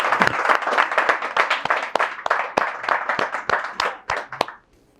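Audience applause at a community meeting, a sustained burst of many hands clapping close and loud for about four and a half seconds before stopping abruptly.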